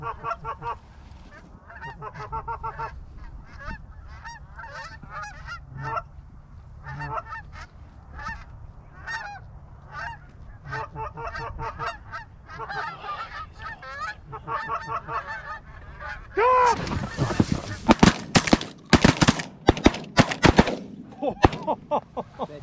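A flock of geese honks repeatedly during a September goose hunt in New York, steady calls building to loud, close honking, then a rapid burst of shotgun blasts.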